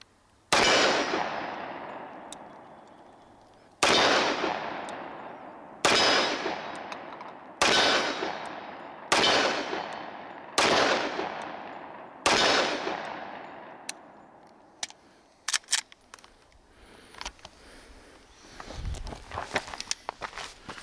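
A Cosaint Arms 10mm 1911 pistol fires six loud, sharp shots at irregular spacing, each ringing out with a long decaying echo outdoors, followed by a few quieter metallic clicks and handling noises.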